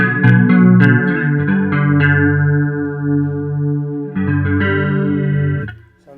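Electric guitar played through a Mark Bass CMB 150 Black Line bass amp with a chorus-like effect, giving a thick, beefy low-end tone; sustained strummed chords ring out loud and close, then fade at the end.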